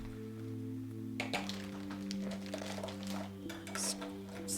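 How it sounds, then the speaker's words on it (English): A whisk scrapes and clinks against a bowl as brown sugar is blended into dry pancake mix, a quick run of light metallic taps and rattles over a steady background hum. "Got a quick whisk, get that all uniform for the most part"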